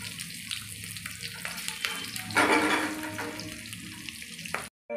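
Onions and chillies sizzle in mustard oil in a wok, a steady broadband hiss of frying that swells louder for a moment midway, close and continuous with no talk over it.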